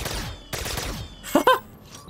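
A weapon firing in Black Ops 3 custom zombies on the Mob of the Dead bridge map, a few sharp shots with heavy kick, two in quick succession then a louder pair near the end.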